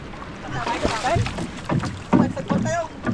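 Wooden paddle strokes on a small boat out at sea, soft splashes and water swirls under wind noise, with people talking in the boat over the top.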